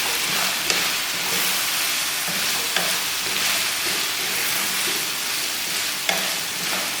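Spiced potato bhujia frying in a pan while being stirred: an even, close sizzle with soft scraping and a few sharper utensil taps against the metal.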